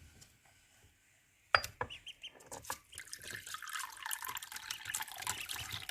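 After a near-silent start, water is poured into a dish for three-day-old Ancona ducklings with a sudden clatter, then a steady splashing stream while the ducklings peep and chirp faintly around it.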